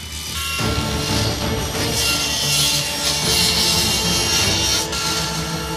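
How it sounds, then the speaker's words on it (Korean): A power saw cuts wood in a wooden bathtub factory with a steady, loud whine and rasp that runs the whole time, close by. "목수라면 익숙해져야만 하는 톱질이지만"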